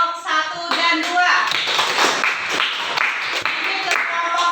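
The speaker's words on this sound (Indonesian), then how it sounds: "Beri aplaus buat kelompok 1 dan 2." Students in a classroom clap for presenting discussion groups, a scattered burst of hand claps and tapping following a brief spoken word, with rustling and shuffling under the clapping.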